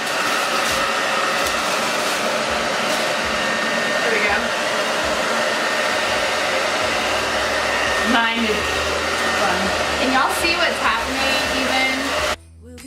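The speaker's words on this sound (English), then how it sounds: "Now we're gonna shrink it with the hair dryer." A hair dryer blows steadily at close range, a loud continuous whooshing hum, with a brief faint voice partway through before it cuts off.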